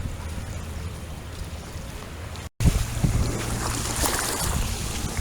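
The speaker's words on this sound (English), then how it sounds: "Listen to the water lapping." Water laps at the edge of a beach, heard as a soft, continuous wash under steady wind noise across the microphone, with a brief dropout midway before the surf and wind return slightly louder.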